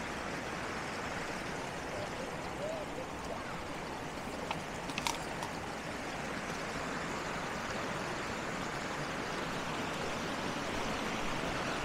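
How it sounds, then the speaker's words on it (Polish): A small waterfall forms in a stream in Carding Mill Valley. Its water rushes in a steady, broadband wash that continues unbroken and fairly close for the whole stretch, with no voices over it. "Taki mały jakby wodospad się robi."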